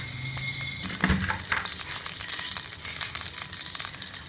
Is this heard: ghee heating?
yes